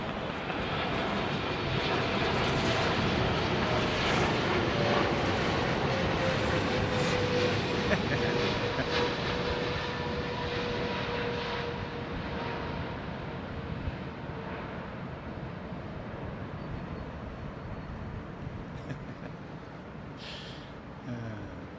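An Air Malta airliner arrives at London Heathrow Airport in the early morning, a steady broadband jet roar with a slowly falling engine whine that eases toward the end, heard at a distance under occasional talk.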